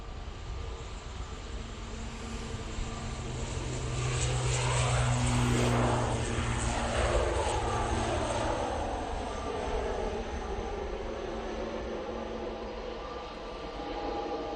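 Propeller aircraft at Manchester Airport, a steady droning engine that swells to a peak midway as it passes, then fades slowly, heard from a distance with no talk.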